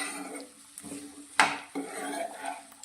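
Cut okra being stirred into a cooking pan, with clattering utensil scrapes and one sharper clink against the pan, close and moderately quiet, no talking.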